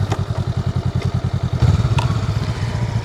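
A motorcycle engine runs close by with a fast, regular thumping pulse that shifts and roughens midway as the rider drops down into first gear for low-speed maneuvers, with a faint clunk near the change.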